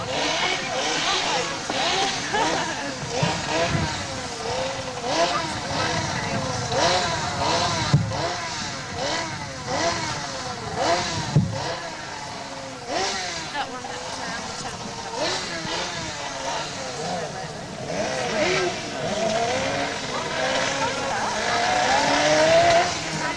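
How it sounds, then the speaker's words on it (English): Powerboat engines warming up before a Formula 500 race in Stewardby, England: several racing engines rev and buzz continuously, rising and falling in pitch, with a commentator talking over the noise. "Still warming the engines up."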